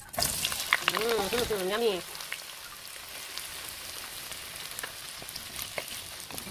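Fishballs dropped into hot cooking oil for street-food merienda, a steady crackling sizzle near the mic, with a short spoken word and a hum-like voice sound early on.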